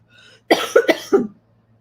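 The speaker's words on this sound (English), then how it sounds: "Sorry, something's making me cough." A person coughs a few times in a quick, close burst, preceded by a soft breathy sound, in an otherwise quiet room.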